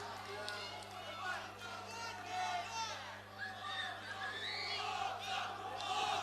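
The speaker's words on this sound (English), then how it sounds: "The crowd going absolutely nuts." Crowd roaring and chanting at an MMA bout in the 66 kg class, a loud, sustained wash of cheers and shouts that swells and holds throughout, with commentary voices talking over it.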